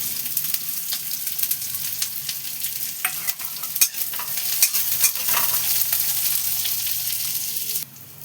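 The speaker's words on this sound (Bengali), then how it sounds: "এই যে পেঁয়াজ কুচোনোটা দিয়ে ভাজছি" Chopped onions sizzle loudly in hot oil, a continuous crackling hiss broken by scraping stirs of a spatula, close up with no talking.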